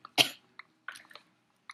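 A person coughs a few times in short, sharp bursts, one stronger cough followed by softer, spaced hacks, quiet and close with no talking.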